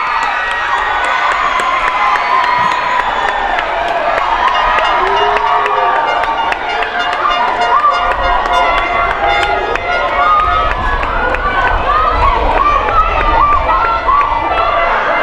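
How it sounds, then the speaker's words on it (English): High school boys' football crowd at a Saltus versus Cedarbridge match roaring wildly after the winning goal, a loud, sustained wall of cheering, screaming and shouting with people jumping and waving, filling the whole stretch without a break. "And the crowd goes crazy."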